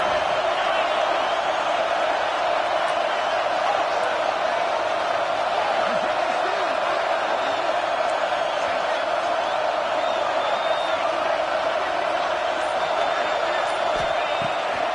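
A football stadium crowd roars steadily during a third-down red zone play at an Auburn versus Minnesota game, a dense, constant wash of cheering at moderate distance, with a commentator speaking over it.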